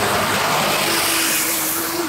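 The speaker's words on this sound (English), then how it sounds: "It's a big red bus." A big red bus drives past close by, a loud broad roar of engine and road noise that holds steady for a couple of seconds with a rising tonal whine near the end.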